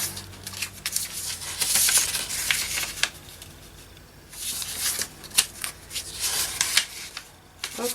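Sheets of paper for a junk journal being handled and folded in half, crisp rustles and sliding crinkles in uneven bursts with short pauses between, close and clear with no talking.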